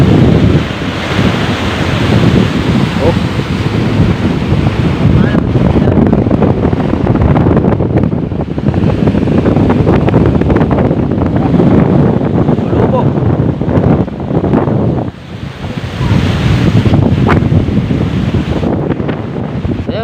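Big waves at sea on a fishing trip make a loud, continuous surf roar on a boat, with heavy wind buffeting the microphone throughout. Brief dips in the noise come near the end, and a voice is faintly mixed in.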